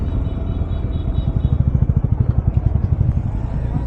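Scooter engine on a road ride: a close, loud low rumble with a rapid pulsing throb midway, over a constant wind-like rush.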